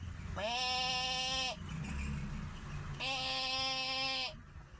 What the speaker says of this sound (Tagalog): What is the sound of goat?